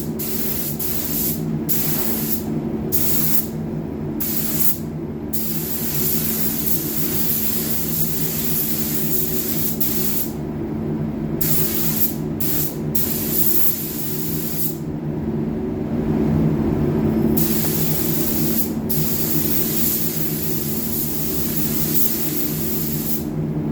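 Spray gun painting a raw plastic new car bumper, a loud, continuous close hiss of spray in long passes broken by brief pauses, with a low hum beneath.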